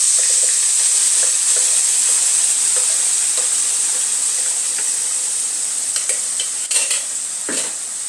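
Ground masala paste for an egg masala gravy frying in hot oil, a loud continuous sizzle broken by scattered scrapes and taps of the spoon as it is stirred, no talking.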